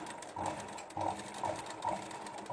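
A sewing machine stitches fabric during a basic tailoring lesson, running a quarter-inch seam in short, even bursts of whirring needle rhythm, close and clear with no talking.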